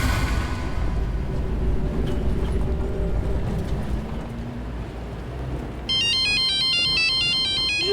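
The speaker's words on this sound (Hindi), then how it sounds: "रुको पापा, मैं आपको फोन उठा के देती हूँ।" Low rumbling ambience gives way to a loud electronic phone ringtone, a repeating melodic pattern that kicks in near the end.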